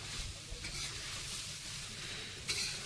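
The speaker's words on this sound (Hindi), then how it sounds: "इसमें चीनी मिक्स किया जा रहा है" A spoon scrapes and stirs sugar into coconut laddu mixture in a pan, a faint continuous shuffling and sizzling texture with a brief clink near the end, no voices.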